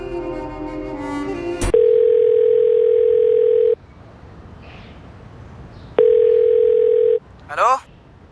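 A telephone tone sounds on a call that will not connect. A steady tone holds for about two seconds, goes quiet, then returns for just over a second. Brief speech and music come before it and after it.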